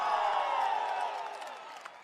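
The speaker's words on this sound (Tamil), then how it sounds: "ஆரவாரம் எழுச்சி" A crowd of women roars and cheers at an AIADMK political rally in Kallakurichi, Tamil Nadu, a broad, sustained wash of voices that slowly fades.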